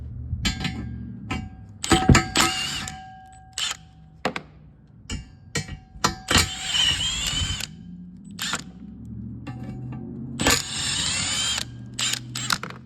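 A power tool drives bolts out of a Land Rover 110 in repeated short bursts of whirring and ratcheting with pauses between, loud and close, with no talk.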